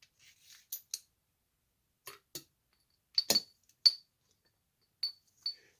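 Glass bobeche reducers clink together during chandelier assembly: about eight small, sharp, quiet taps spread unevenly over a near-silent background, with no talking.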